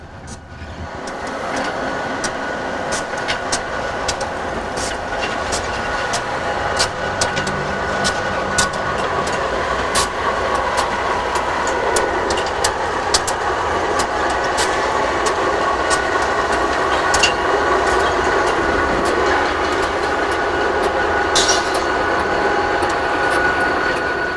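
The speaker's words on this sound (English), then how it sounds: "Snow swirls around the undercarriage of the two units as they emerge from completing the set-out." Two Conrail locomotives roll through swirling snow on a cold day, a steady broad engine rumble with rail noise and scattered clanks running continuously and fairly close, with no voices.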